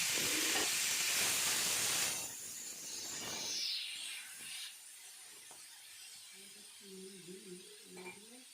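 Dried red chilli, half a spoon of black mustard seeds and boiled elephant apple drop into hot oil, giving a loud close sizzle that settles into a fading hiss, with a faint voice toward the end.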